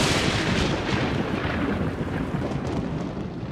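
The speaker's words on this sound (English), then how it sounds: "This is called thunder." Thunder from a thunderstorm rolls as a loud, continuous broadband rumble that fills the whole stretch, with heavy low-end weight and a slight fade toward the end, with no voices.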